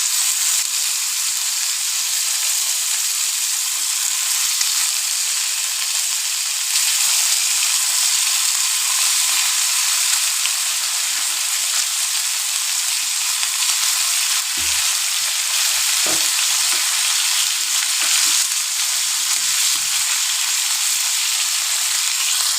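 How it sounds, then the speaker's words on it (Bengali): Steady, dense sizzling of parshe (mullet) fish frying in hot oil, constant and fairly loud throughout with a few faint clinks and scrapes. "এইভাবে আমি সব মাছগুলো ভেজে নিই"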